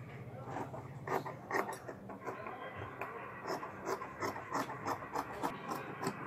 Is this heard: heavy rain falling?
no